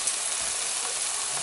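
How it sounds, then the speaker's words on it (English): Bacon fries in a hot pan with a steady, close crackling sizzle of fat throughout, no voices. "Bacon's sizzling now."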